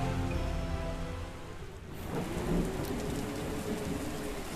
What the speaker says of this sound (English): Yar, there be a thunderstorm!